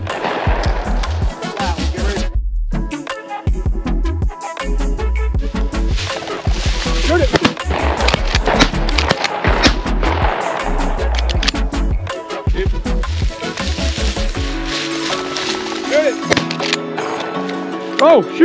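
Shotgun blasts ring out during an upland game bird hunt, several sharp reports scattered among footsteps and brush noise, with hunters calling out and talking throughout.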